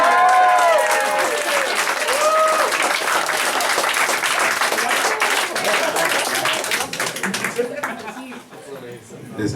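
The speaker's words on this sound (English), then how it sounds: "Should we give a big round of applause?" A crowd at a spoken word event breaks into loud applause mixed with cheers and voices, thinning out toward the end as the clapping fades.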